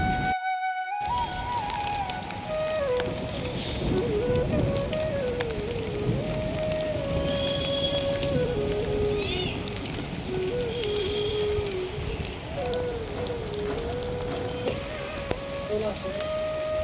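Heavy morning rain pouring onto a rooftop, a dense continuous patter that holds steady throughout, with a faint wavering tone running underneath.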